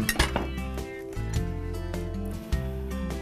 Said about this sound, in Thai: ตอนนี้หั่นพริก